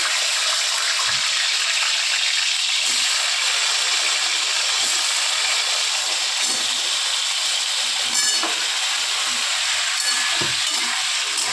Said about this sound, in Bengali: এবার কুমড়ো আর আলুগুলোকে তেলের মধ্যে দিয়ে দিচ্ছে।